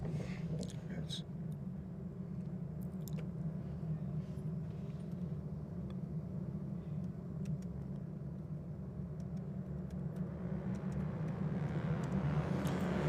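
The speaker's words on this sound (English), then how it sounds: "There would be a formation lap for this race for the riders." Honda CBR 150 race motorcycles on a formation lap at a novice one-make race, a steady, fairly faint engine drone running beneath continuous commentary.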